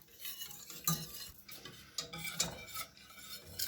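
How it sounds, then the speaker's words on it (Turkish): A spoon stirs a thick baby food (papa) mixture in a pot, scraping and clinking against the sides in an uneven rhythm, close and fairly quiet, with a faint sizzle underneath. "Karıştırmaya başladım ben."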